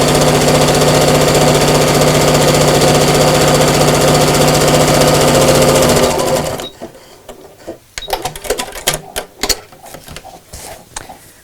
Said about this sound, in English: although we've got quite a thickness of fabric, it's still easy to sew through